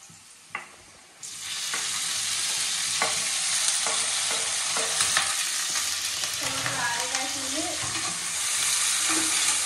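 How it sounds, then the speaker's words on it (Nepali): Tomatoes dropped into browned onions for chicken curry, a loud oily sizzle that bursts up after a clatter and continues steadily with spatula scrapes and taps, close by with no talking. "प्याज पनि अलिअलि ब्राउन हुन थाल्यो, अब म यसमा टमाटर हाल्छु।"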